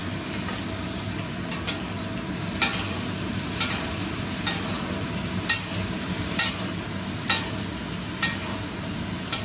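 Steak sizzles in browning butter with a steady, close crackling hiss, punctuated by evenly spaced stirring or basting clicks about once a second, with no voices.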